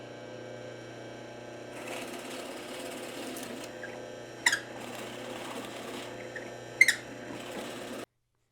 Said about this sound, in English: So I'm just going to go ahead and drill those